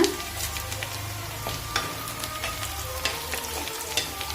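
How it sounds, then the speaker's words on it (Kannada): Dry red chillies fry in hot oil for a traditional Karnataka dish. The oil sizzles and crackles steadily, with scattered pops and a low background hum, and no one speaks. "ಫ್ರೈ ಮಾಡೋಣ. ಈಗ ಒಣಮೆಣಸಿನ್ಕಾಯಿ ಹಾಕೋಣ."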